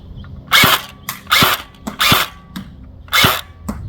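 An H&K-licensed airsoft gun fires BBs at a target about 20 yards away, giving four sharp, close pops at uneven intervals. Fainter ticks sound between the shots.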